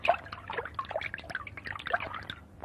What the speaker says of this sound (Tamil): எவ்வளவு துணி தான் துவைக்கிறது?